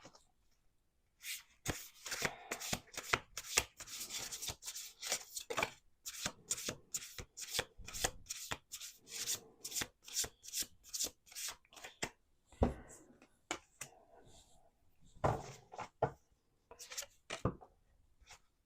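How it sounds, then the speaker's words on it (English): A deck of oracle cards being shuffled by hand, quick riffling bursts and repeated crisp slaps of cards, close and quiet, in uneven rhythmic runs with brief pauses between. "I'm doing one more shuffle"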